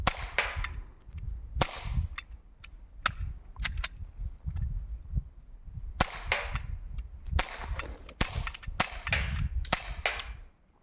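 Sharp, snappy shots from an Umarex Glock 17 Gen 5 airsoft pistol pop out at irregular intervals, some in quick pairs, each a crisp crack with brief gaps between.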